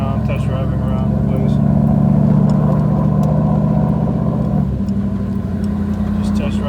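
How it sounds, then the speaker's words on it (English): Steady mid-pitched engine hum from inside a 1996-98 Ford Mustang fitted with high-output ignition coils on a slow drive around a block, running evenly and close, with a slight change in tone near the end. "Just test driving around my block."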